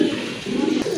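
Low, soft cooing of a large, high-quality fancy pigeon, close by in a loft, a continuous throaty murmur with a brief break midway over faint background noise.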